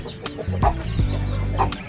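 Chickens cluck repeatedly at close range, several short bursts of clucking over a low, steady background hum.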